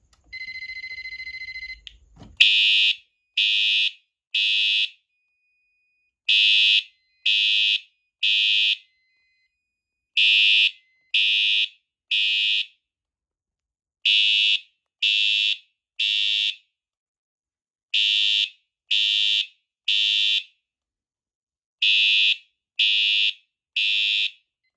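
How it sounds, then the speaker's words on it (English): A Fire-Lite MS-5UD fire alarm panel in drill mode sounds its horns in a repeating temporal pattern of three sharp beeps and a pause, loud and clear, after a brief initial tone and click. "we're also going to go ahead and activate the drill button"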